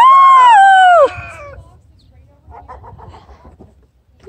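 Loud rooster crowing at a farm petting zoo, one long harmonic call up close, then quieter clucking and farmyard noise with a brief voice at the end.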